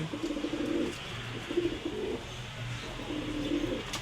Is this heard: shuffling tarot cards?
no